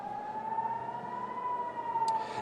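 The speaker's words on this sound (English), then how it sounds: "Kayleigh, right now we have air raid sirens that are sounding across Israel's second largest city of Tel Aviv" Air raid sirens wail across Tel Aviv, Israel, a steady sustained siren tone held continuously at moderate distance, with no voices, and a brief click near the end.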